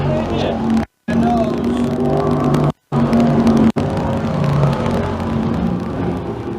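Stock cars in a sportsman heat race on a dirt track roar steadily and loudly, with engine whine and crowd noise mixed in. The sound drops out in two brief gaps.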